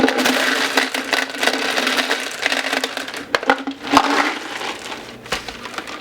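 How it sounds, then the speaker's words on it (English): Lead bullets for a Lee 44 caliber SWC mold poured into a plastic tumbling jug, a dense rattling clatter of many small metal pieces tumbling together, loud and close, with sharper clacks as the pour tapers. "Now notice I go ahead and dump in some bullets."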